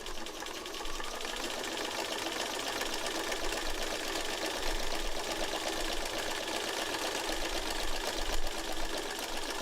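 A sewing machine stitches continuously with a long 3 millimeter stitch length, meandering across fabric, producing a steady close mechanical whir and rapid needle chatter throughout, no voices.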